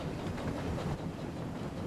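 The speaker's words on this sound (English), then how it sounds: "Clouds of smoke and steam towered from the snorting engines as they struggled up the hill." Steam engines chugging uphill in a Thomas & Friends video game, a dense continuous rumbling rail clatter at steady moderate loudness with no clear separate puffs and no talking.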